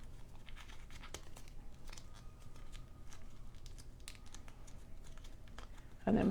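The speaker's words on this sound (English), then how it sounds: "So just crumple it up a bit." Craft paper, sprayed with a little water to distress it, is crumpled by hand: close, irregular crinkling and crackling bursts over a quiet background, growing louder at the very end.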